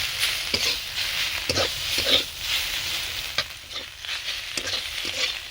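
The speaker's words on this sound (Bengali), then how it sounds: "অল্প আঁচ দিয়ে এইভাবে মশলা দিয়ে শাকটাকে কিছুক্ষণ নেড়ে নেড়ে রান্না করতে হবে" Malabar spinach with spices is stirred and fried in a pan on low heat, giving a steady sizzle broken by repeated scraping strokes of a spoon, close and fairly loud, with no talking.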